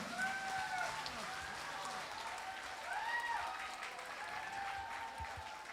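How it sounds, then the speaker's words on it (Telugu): An audience at a Shivaratri event breaks into sustained applause, a continuous wash of clapping heard from a distance while tonal music or singing plays over it. "గట్టిగా క్లాప్స్, గట్టిగా క్లాప్స్."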